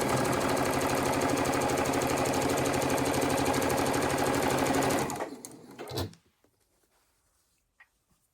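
A sewing machine with a 1/4 inch foot stitches a quilt seam in a fast, steady mechanical whir close by, then stops abruptly, followed by a few faint handling clicks.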